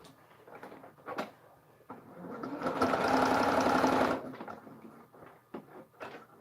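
A sewing machine stitches foundation paper piecing in one steady run of about two seconds, framed by quieter clicks and handling noises before and after.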